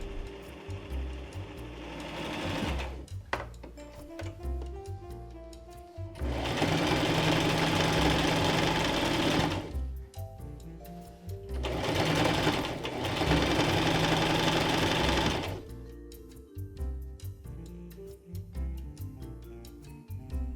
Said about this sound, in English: Sew the bag lining together the same way. Sew the handles.